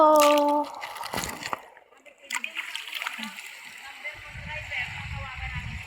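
River water splashes and sloshes at a bathing spot, in a few close bursts with a steady flow behind them. Someone talks over the sound.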